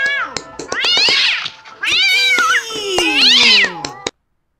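A cat meowing loudly and close, several long, drawn-out wailing meows with rising and falling pitch, nearly continuous, ending abruptly into silence.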